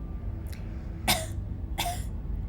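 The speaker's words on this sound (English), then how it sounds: "He coughs gently." A few soft, brief coughs, about three, come from a character in the video game Scarlet Hollow in an otherwise quiet room.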